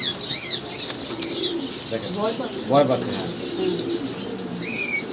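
Magpie pouter pigeons, a pair including a blue one, coo softly at a Bengali pigeon farm, with chirps and brief wing flutters, while someone talks over them throughout.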